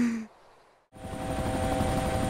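A helicopter in the video game DayZ drones loudly and steadily after a short near-silent gap, with a constant rotor and engine tone filling the rest.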